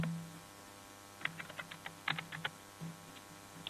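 Keys clack on a computer keyboard while entering a formula into Excel, a quick burst of light, close taps followed by a few scattered keystrokes in a quiet room.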